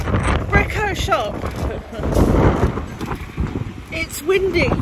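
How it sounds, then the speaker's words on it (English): Strong gusts buffet the microphone in loud, irregular rumbling bursts on a very windy day outside a shop, with voices talking intermittently through the noise. "It's one of those days where it's really windy, where the wind actually blows the car off course"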